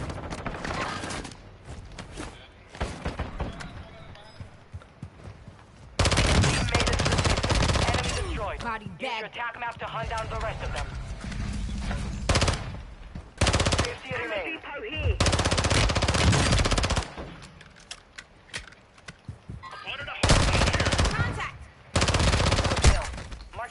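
Heavy video-game gunfire in a first-person shooter match: long bursts of rapid automatic fire alternating with shorter volleys and brief pauses, loud and close, with occasional voices in between.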